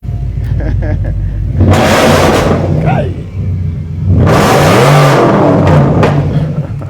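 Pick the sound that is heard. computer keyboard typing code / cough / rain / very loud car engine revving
very loud car engine revving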